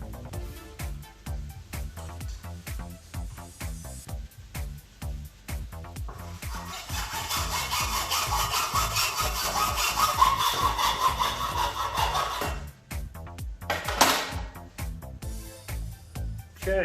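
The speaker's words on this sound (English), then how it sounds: "I'm going to grab the hacksaw and cut a chunk out of there." A hand hacksaw cuts through a section of metal exhaust pipe on a turbo LS-swapped 240SX, giving steady rhythmic back-and-forth strokes. The strokes are close and prominent, with a brief louder scrape near the end.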